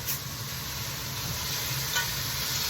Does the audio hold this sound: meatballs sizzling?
yes